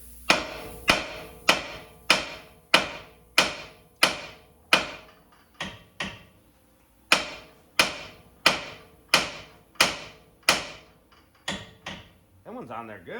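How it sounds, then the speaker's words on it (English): A hammer striking a car's steering knuckle during a power steering pump replacement on a GM 3.6L Acadia/Traverse/Enclave: sharp metallic whacks in a steady series of about twenty, evenly spaced, with a short pause midway, close and loud. "We're gonna hammer on the steering knuckle right here."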